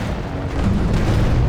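Missile explosion in the space combat game Space Commander: a dense, continuous low rumbling boom filling the whole moment, loud and sustained rather than a single sharp crack, with no voices over it.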